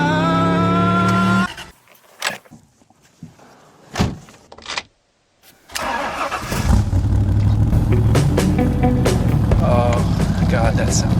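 A Superformance Daytona Coupe, a replica of the mid-1960s Shelby racer, starts with a few sharp mechanical clicks and a bang, then settles into a loud, steady, rumbling idle close by, with a voice briefly heard over it.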